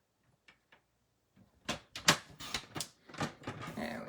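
Card paper being cut to size for a Stampin' Up! Halloween card: a few faint ticks, then a series of sharp, close slicing and snapping strokes of a paper trimmer, quiet overall.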